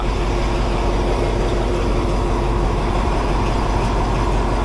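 A train running on the Death Railway in Kanchanaburi, Thailand: steady broadband rumble and rattle of a moving railcar, close and constant throughout, with no speech.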